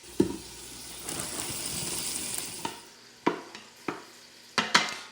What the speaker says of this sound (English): while the onions are cooking